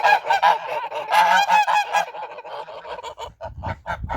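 Several geese honk loudly and insistently at close range, overlapping harsh calls in quick bursts, followed by quieter scattered honks.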